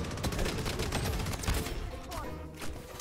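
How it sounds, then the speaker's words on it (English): Gunfire from the video game Bloodstrike, a dense stream of overlapping shots and bursts crackling continuously across the whole stretch, loud and busy with game sound effects layered in. "Why are you shooting at me, bro?"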